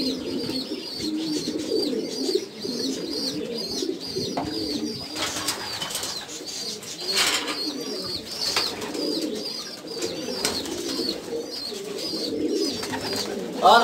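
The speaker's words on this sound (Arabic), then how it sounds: "ها الحمام اللي باقي ما بغاش يهبط لينا هو هذا" Pigeons coo repeatedly in soft rhythmic bursts near an Agadir loft, with intermittent wing flaps and brief fluttering noises as some birds take off and circle.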